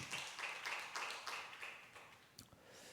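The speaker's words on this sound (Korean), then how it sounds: "우리 먼저 주님께 영광의 박수 올리겠습니다." A church congregation claps together in rhythm, faint and a little distant, in a series of even beats that trail off near the end.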